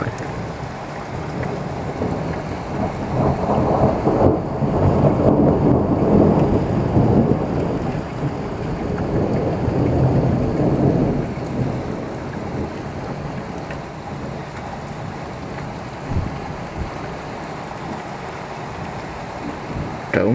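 Thunder rolls heavily through a Grootebroek thunderstorm, a long low rumble swelling and fading over steady pouring rain that continues after it dies down.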